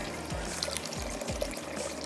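Water is poured into a cooking pot of urad dal and spinach, a steady close splashing pour with a few gurgling surges, heard alone.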